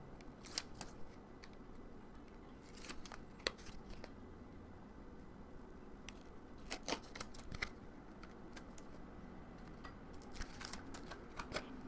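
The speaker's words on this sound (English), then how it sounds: "remove the tape backing." Backing peels off score tape on a Graphic 45 paper folio cover piece, giving faint, close, intermittent crisp crackles and rips in short bursts over a quiet room.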